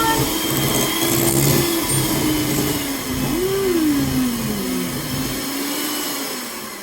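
Electric hand mixer switched to turbo, whirring loudly through chocolate cake batter with a steady mid-pitched motor drone that wavers as the beaters move, no talk.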